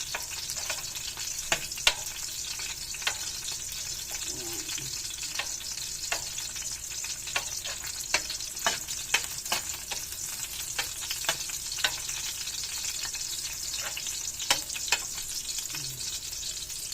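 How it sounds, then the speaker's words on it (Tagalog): Garlic sautés in a pan, crisping in oil for a pancit recipe, a steady close sizzle broken by irregular soft clicks and scrapes of stirring, with no talk. "Pabaraw natin yung bawang para mabango, para sobrang bango."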